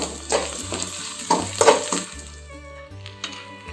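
Onions sautéing in a pan until golden, a close bubbling sizzle with a few scraping stirs, steady and fairly loud, no talking.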